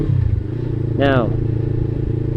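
A Suzuki SG500 motorcycle engine idles close by with a steady low, throbbing hum throughout, and a brief voice cuts in over it midway.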